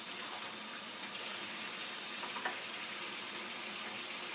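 Tap water runs steadily into a kitchen sink while a dish is rinsed during home cooking of a chickpea pie. The broad, even hiss carries on for the whole stretch with no talking.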